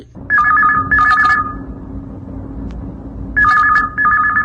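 A telephone rings with two quick trilling bursts, pauses, then rings again with another pair of bursts, loud and close.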